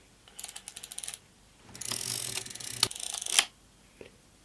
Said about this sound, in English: to advance the film, you have this crank on the side, and so you get this handle out, and then you roll it forward